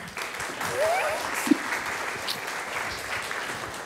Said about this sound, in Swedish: Pernilla Rydmark, en applåd till.